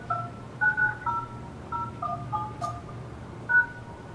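Telephone keypad tones beep in short irregular bursts as a WebEx meeting access code is entered, a dozen or so clear two-tone presses over a low background hum.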